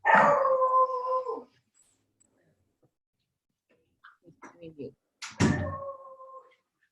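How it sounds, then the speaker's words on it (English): Beagles howling loudly nearby, with one long sustained howl at the start and another after a pause broken by a few short yelps or barks. "The dogs are going crazy."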